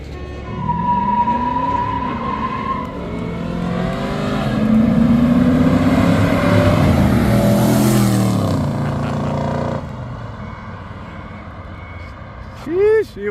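Pontiac and Chevy cars launch in a street drag race, engines revving up and roaring loudly for several seconds with wheels spinning, then dropping away as a short chirp sounds near the end.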